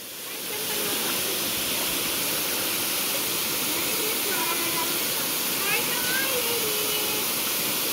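Broad steady roar of water from the main falls at Ng Tung Chai in Hong Kong, a dense continuous rush close by that holds at an even level after a short fade-in, with faint voices now and then under it.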